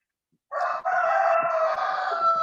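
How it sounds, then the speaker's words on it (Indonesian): A rooster crows loudly and nearby, one long sustained call with a short break near its start, against an otherwise quiet background. "Ada suara ayam sangat keras"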